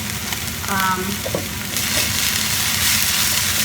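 Collard greens with shoyu sizzling in a pan over medium-high heat, a loud close frying hiss with scraping stirs, growing brighter and fuller partway through.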